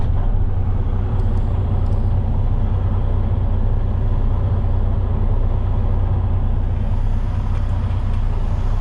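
A 2013 Freightliner Coronado tractor truck idles steadily, a deep continuous diesel rumble heard up close from the cab with no talking.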